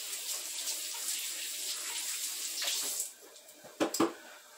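Tap water runs steadily while hands are rinsed at a kitchen sink during pineapple canning, ending with a few splashy bursts as the flow is shut off; no one speaks.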